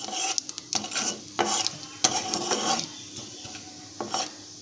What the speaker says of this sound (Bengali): একটু সাদা জিরে আর একটু রাঁধুনি রাঁধুনি ফোড়ন দেব